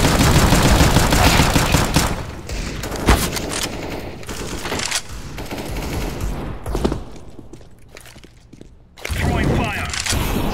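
Video game battle with bursts of rapid gunfire and explosive pops from grenade, flashbang and Molotov throws, loud and dense, fading briefly before another burst, with a voice talking over it.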